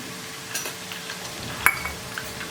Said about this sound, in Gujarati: ચારથી પાંચ મિનિટ સુધી આપણે આવી રીતે હળદરને સાંતળવાની રહેશે